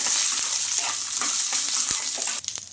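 Green chillies and fresh coconut pieces frying in oil in a pan, sizzling loudly and steadily up close, with a brief stirring clatter near the end.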